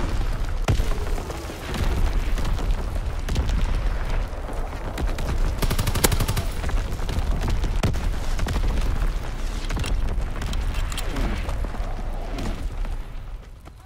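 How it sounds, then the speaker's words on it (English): Incoming artillery explosions and rattling gunfire from a World War II battle in Call of Duty: WWII, loud and continuous, with heavy booms and machine-gun bursts layered through the whole stretch. "Incoming enemy artillery!"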